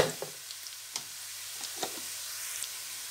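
Browned onions with salt and spices sizzle steadily in a pan, a continuous close frying hiss broken by a few faint stirring taps, with no voices.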